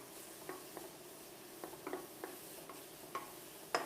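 Diced onion cooks quietly in a pan with a faint low sizzle. Scattered soft clicks and taps from a utensil against the pan sound throughout.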